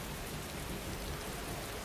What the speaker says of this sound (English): listening to the rain patter against my window